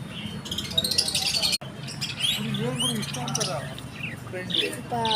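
Many small birds chirp and tweet continuously in a busy indoor space, bright overlapping calls with a few louder squawks mixed in.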